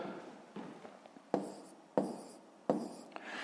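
Pen writing numbers on paper while working a long-division problem for a fifth-grade math exercise, heard as soft scratchy strokes broken by three sharper taps, close and quiet with no talk.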